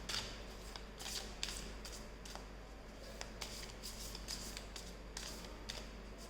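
Major arcana tarot cards are shuffled quietly and steadily in a soft riffling rhythm, with faint crisp flicks repeating over a low background hum and no talk.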